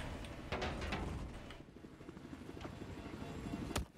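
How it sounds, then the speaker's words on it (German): A helicopter in Battlefield 4 multiplayer whirs with a steady rotor drone and engine hum at moderate distance, accompanied by faint game noises and a sharp click near the end. "Ah, du hast ein Heli da, Maro?"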